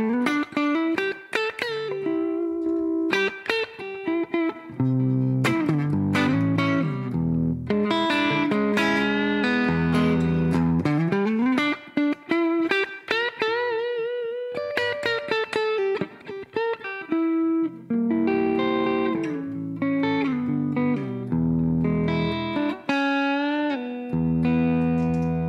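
An electric guitar played through the IK Multimedia ToneX Super Reverb amp patch, heard on its own: clean, sustained chords and melodic single-note lines in a continuous flowing phrase with no speech.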